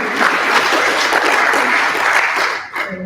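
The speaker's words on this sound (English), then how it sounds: "Please give applause to our President and the Chairman of WTN" Audience applause for the president and chairman of the WTN think tank group: dense, steady clapping from a crowd that holds for about two and a half seconds, then thins and tapers away.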